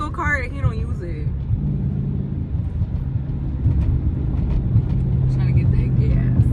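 A Dodge Charger's engine and exhaust rumble low and steady throughout, growing slightly louder toward the end, with a voice talking briefly at the start.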